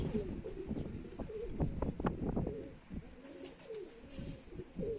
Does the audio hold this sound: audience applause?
no